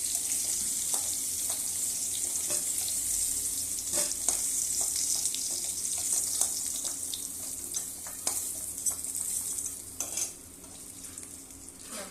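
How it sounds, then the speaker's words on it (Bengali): Cauliflower sizzles and crackles in hot white oil, a steady bright hiss with occasional stirring scrapes, close up and without voices. "ফুলকপিটা আর সাদা তেলে ভাজবে কিন্তু"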